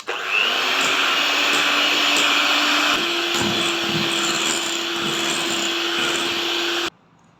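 A blender whirs steadily as it mixes homemade ice cream made with water, a loud, continuous motor drone with a slight pitch drop partway through, cutting off abruptly near the end.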